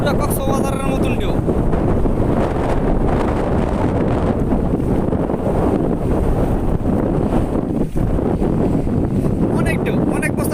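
Strong wind buffeting the microphone beside the Shitalakshya river, rough waves washing, trawlers and ships around, a loud constant roar with a voice talking over it.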